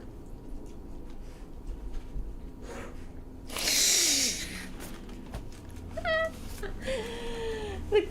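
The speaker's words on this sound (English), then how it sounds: "The kitty hissing at Bubbles as she walked by." An indoor cat lets out a sharp, breathy hiss lasting about half a second, followed by a couple of whiny, rising meows amid quiet room noise.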